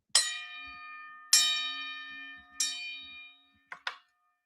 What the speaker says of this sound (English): Let me give you that gong of blessing.